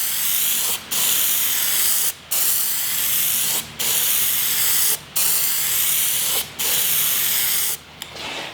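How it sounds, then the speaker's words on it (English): PlastiDip sprayed from an aerosol can in six steady hissing passes of about a second each, separated by brief pauses, loud and close with no talking. "Now spraying down PlastiDip with the aerosol can"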